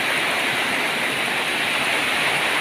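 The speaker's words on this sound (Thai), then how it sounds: "ตกแรงมากนะครับโน่นมีทั้งลมด้วยครับ" Heavy rain driven by wind pours down steadily around a house in the countryside, a dense, loud and unbroken hiss with no pauses and no voices.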